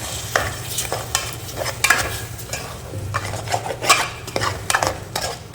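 Potato masala stirred in a pan, a spoon scraping and tapping the metal in repeated strokes over a low sizzle, close and fairly loud.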